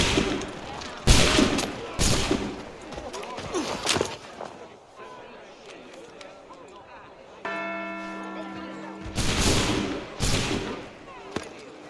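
Gunfire volleys in Assassin's Creed 3 Remastered, loud broadband bursts near the start and again near the end, with a sustained tonal ringing between them and voices talking throughout.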